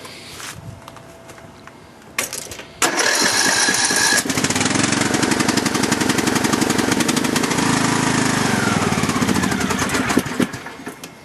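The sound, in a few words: LT2000 lawn tractor engine cold start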